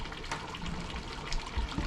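Water pours steadily from an open tap, a continuous splashing rush at a moderate level with no talking.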